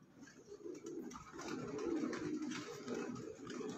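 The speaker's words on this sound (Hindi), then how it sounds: "ये जी काजल कबूतर है" Soft, low cooing of a Kajal pigeon repeats steadily close by, a throaty rolling call over faint background hiss, with no talking.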